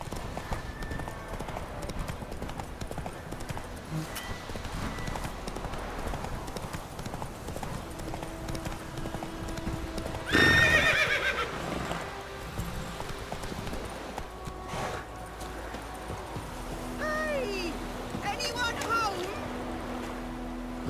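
Roach, Geralt's horse in The Witcher 3, trots along with steady hoof clip-clops on the ground, with a brief louder burst midway and light ambient sounds. Voices speak over parts of it.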